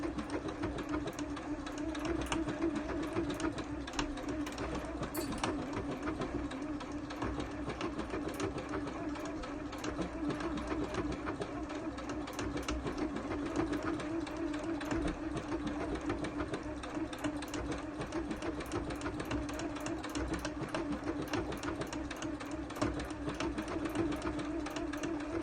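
A sewing machine runs continuously through a fancy decorative stitch, a fast steady mechanical whir and rapid needle clatter heard close up, with little change in pace throughout.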